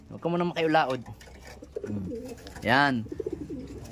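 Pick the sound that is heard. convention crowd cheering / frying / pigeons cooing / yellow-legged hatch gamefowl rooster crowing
pigeons cooing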